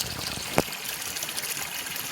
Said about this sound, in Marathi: आम्ही ही मोटर लावली ही जी मोटर दिसता समोर तुमका ते आम्ही लावलो जेणेकरून आमच्या घरात डायरेक्ट पाणी येतं